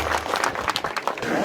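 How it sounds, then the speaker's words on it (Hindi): A village gathering in Rajasthan applauds to welcome the police superintendent, a dense, loud burst of clapping from a crowd that fills the moment with no pause. "जोरदार तालियों से स्वागत कीजिए माननीय पुलिस अधीक्षक महोदय।"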